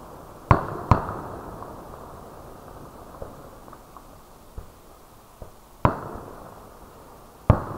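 Fireworks bursting at a July 4 show, a few sharp booms scattered across the stretch, two close together early and two more later, with faint crackles between them and no talk.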